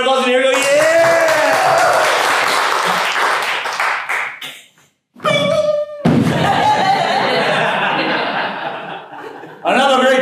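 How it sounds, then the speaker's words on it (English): Loud studio-audience applause and cheering in a comedy sketch show, filling most of the stretch, then cutting out briefly before a second burst returns. Laughter mixes into the clapping. "Let's give it a round of applause"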